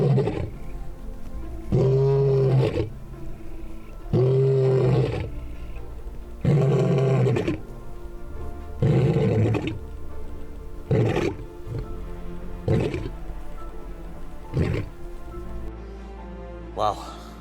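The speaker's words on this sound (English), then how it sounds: "But it seems like he wants to roar." A big male lion roars in the Kgalagadi at Mabuasehube, a series of deep, loud, rhythmic roaring grunts close by, repeating steadily and fading toward the end.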